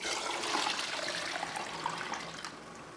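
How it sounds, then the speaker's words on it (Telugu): Water pours steadily into a bowl of soaked flour (telaga pindi), a continuous close splashing stream for the whole stretch, with no voices over it. "ఈ వాటర్ వేద్దాం."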